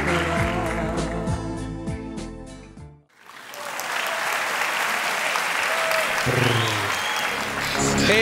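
A talent-show audience breaks into loud, sustained applause to send off a performer, following a stretch of music that cuts out abruptly before the clapping swells and continues.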